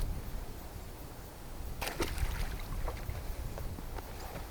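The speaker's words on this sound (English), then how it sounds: "Wind again. Nasty wind, nasty wind." Strong, steady wind buffets a fishing boat on a lake during a bass fishing trip. It makes a constant close roar, with faint knocks and rattles of the boat and gear running through it.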